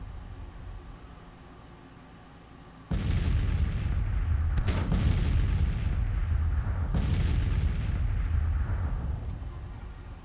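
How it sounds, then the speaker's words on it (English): Artillery fire in the Civil War strategy game Grand Tactician: loud booming cannon blasts begin after a quiet stretch, with several heavy reports overlapping into a sustained rumbling barrage. "So I'm going to let my artillery just have at it for a little bit."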